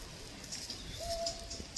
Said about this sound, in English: That's another owl calling.